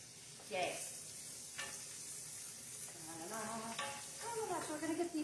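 Onions cut into chunks sizzle as they sauté in a pan for turkey stroganoff, with a steady frying hiss, occasional stirring scrapes and faint voice sounds in the background.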